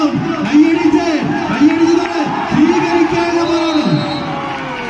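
A crowd of spectators claps and cheers at a village tug-of-war contest in Idukki, with a loud commentator's voice dominating over the steady background roar.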